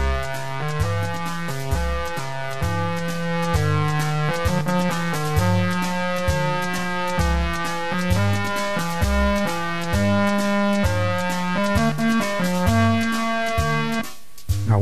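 A 1984 Suzuki OM-84 Omnichord plays a chord sequence with its melody line, bright electronic chord tones under a stepping single-note tune, steady and alone throughout.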